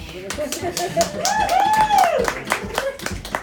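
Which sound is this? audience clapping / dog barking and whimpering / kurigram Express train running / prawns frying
audience clapping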